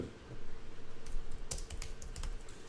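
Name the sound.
typing text on a computer keyboard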